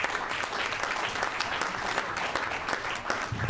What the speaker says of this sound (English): let's give them one more great big round of applause